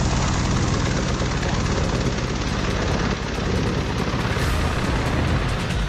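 Military helicopters fly at an advance landing ground in Ladakh, including Chinook, Apache and Mi-17 types, with a loud, continuous rotor and engine roar filling the whole span.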